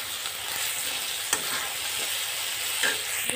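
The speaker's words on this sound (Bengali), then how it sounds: "তো সব কিছু দিয়ে আমি আরও কিছু খানিকক্ষণ কষিয়ে নেব।" Soybean curry masala being sautéed and stirred in a pan, a steady close sizzle with faint scraping and a couple of sharper clinks of a utensil against the pan.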